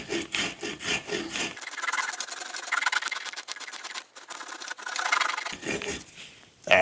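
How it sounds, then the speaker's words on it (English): A hand rasp works wooden bottle opener handles, giving a steady, close scraping rasp in long strokes with brief pauses between passes and no talking. "I'm going to take them over and I'm just going to rasp them and sand them"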